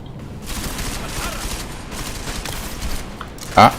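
Dense, continuous gunfire from the Deus Ex: Mankind Divided video game crackles throughout at a steady loudness, ending in one sharper, louder burst near the finish.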